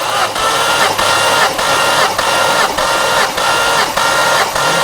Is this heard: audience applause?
no